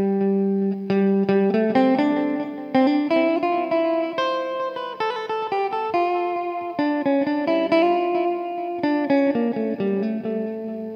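Electric guitar played through an H8 headphone amp on its second preset, with light chorus and little reverb or echo; a steady run of plucked melodic notes, close and clear, with no talk.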